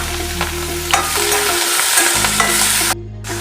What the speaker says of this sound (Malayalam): മുളകും വേപ്പിലും ഇതൊന്ന് മൂത്താൽ പച്ചമുളകും